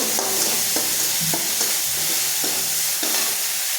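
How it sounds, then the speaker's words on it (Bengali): A thick spice paste fries loudly in a pan, a dense steady sizzle broken by regular scraping strokes of a spatula. "মশলাটা ভালোভাবে কষিয়ে নেব।"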